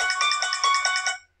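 Phone ringtone plays a repeating electronic melody of bright tones for just over a second, fairly loud and close, then cuts off abruptly into silence.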